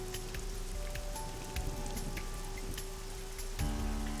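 Pouring rain in the video game AI: The Somnium Files, a dense, even hiss of drops on a surface with faint musical tones running underneath, steady throughout.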